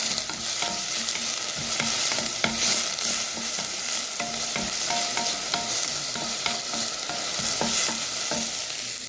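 Cabbage frying in a pan on a home stove, a steady bright sizzle with intermittent stirring scrapes and clicks throughout, close and fairly loud.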